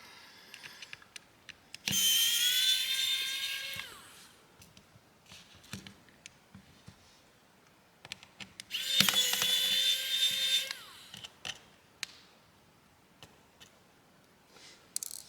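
Small screws being driven out of a Sky Elite 65 Pro phone with a power screwdriver, giving two high whirring bursts of a few seconds each, separated by quiet ticks and clicks, close up.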